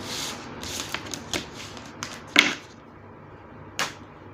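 Tarot cards are shuffled close at hand, giving a sequence of soft papery riffles and sharper flicks at irregular intervals over a faint background hiss, with no speech.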